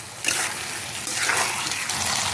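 Water is poured into a pan of white chicken curry, a loud, close, continuous gushing splash that surges briefly partway through.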